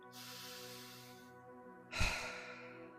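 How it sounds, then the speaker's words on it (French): A single deep, breathy exhale near the close of a guided mindfulness meditation, rising suddenly and then fading slowly, heard clearly over a soft sustained tonal background with no talking. "Reprenez une profonde respiration."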